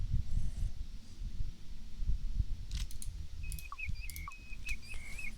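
A plover's call in the video game Colossal Cave 3D: a few short, high chirping whistles repeated in quick succession over a low background rumble.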